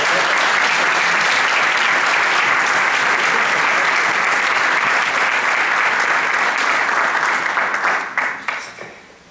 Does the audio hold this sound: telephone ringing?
no